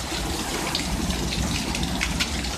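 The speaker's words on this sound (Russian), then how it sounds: "О, град пошел." Dense patter of hail falling in a summer thunderstorm, a steady, loud rushing clatter of many small impacts, with no voices.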